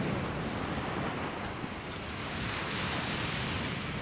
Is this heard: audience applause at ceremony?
no